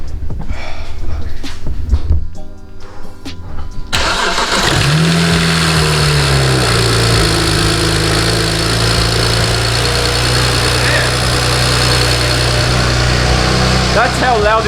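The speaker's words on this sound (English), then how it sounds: "That's how loud injectors are." A BMW N54 engine in a right-hand-drive car during turbo replacement work cranks and catches, then idles loudly and steadily with a persistent rapid ticking from the fuel injectors.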